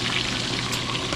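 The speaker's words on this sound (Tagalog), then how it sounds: "Prito kami ng pork chop." Pork chops frying in a pan, a steady dense sizzle and crackle that holds evenly throughout at close range, with no talking.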